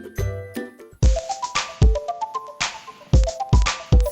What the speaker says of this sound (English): The two drum hi-hats are vibrating while the alarm makes the sound.